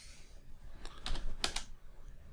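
Short burst of keystrokes on a computer keyboard entering a Linux ls -l command, a handful of crisp clicks clustered in about a second, fairly close and quiet, with no talking.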